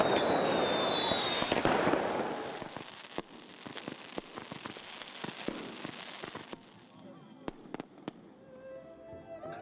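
Fireworks crackle and pop at a celebration, a dense burst of crackling at first that thins into scattered sharp bangs and faint sizzles.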